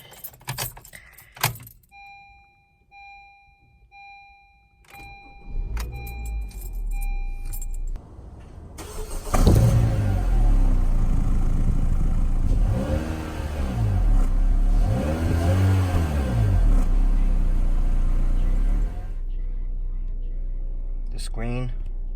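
A 2016 Honda Civic's engine cranks, catches and revs in several rising and falling swells before settling to a steady idle, loud and close, after a few seconds of key jangling and clicks.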